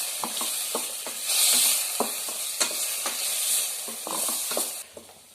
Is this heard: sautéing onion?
yes